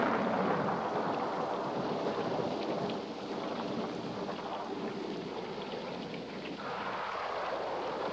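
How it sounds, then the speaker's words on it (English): Steady rain pours down in a continuous broadband hiss, with a dense, even wash of drops that eases slightly partway through and carries on without any talking. "It started to rain."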